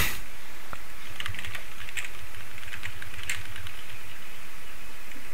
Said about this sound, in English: Oh, someone's typing.